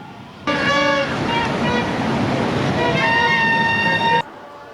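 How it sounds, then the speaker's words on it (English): Several car horns hoot almost without pause in a procession in Kandy, Sri Lanka, overlapping loudly over a background of road traffic. "Loud hooting by cars obviously played an important and prominent role."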